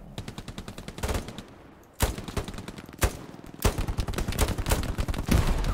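Rapid bursts of automatic gunfire in the World War II shooter Hell Let Loose rattle out in repeated volleys with short pauses between them, punctuated by single heavier shots and chattering machine-gun fire close by.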